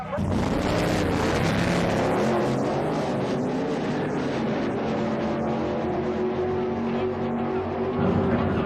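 Exhibition wheelstander drag racing funny car with a fiberglass body, tube chassis and rear-mounted engine, a loud, steady engine roar with wavering harmonic tones across the whole stretch, sparks flying from titanium plates on the wheelie bars at night.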